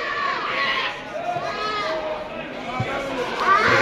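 A two-toothed male goat bleats at the Deonar livestock market in Mumbai, with wavering cries rising over busy crowd chatter while someone talks nearby.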